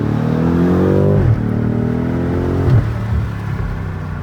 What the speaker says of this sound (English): Let's see if we can get some of these crackles.